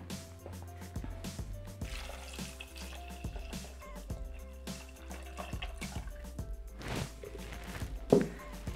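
Water pours steadily into a Thermomix (Bimby) bowl over rice with boiled chickpeas, salt, pepper and vegetable stock, a continuous liquid filling sound with small drips and a brief louder splash near the end.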